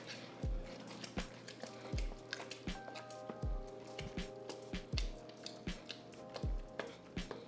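A spoon stirs homemade marinara sauce in a pot, giving soft wet squelches and light knocks in a quiet, close, rhythmic pattern.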